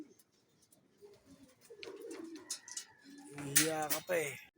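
Racing pigeons arriving at a loft during training in San Ildefonso, Bulacan, coo softly and then louder at close range, mixed with faint rustling.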